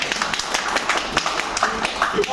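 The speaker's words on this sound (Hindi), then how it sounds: "जोरदार तालियां बनती हैं।" A studio audience gives a round of clapping for a participant at a Hindi talk or seminar event, dense and steady through the whole stretch, with a voice faintly underneath.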